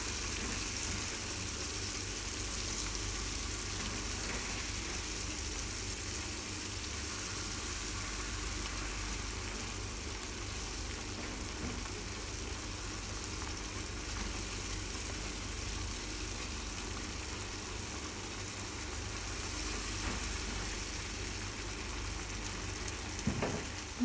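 Spice paste for shrimp balado frying in a pan, a steady, even sizzle that holds at a constant level with no talking, just a faint click near the end.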